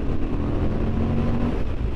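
A 2023 Honda Hornet 750 motorcycle's exhaust gives a steady low rumble, close and continuous with no talk.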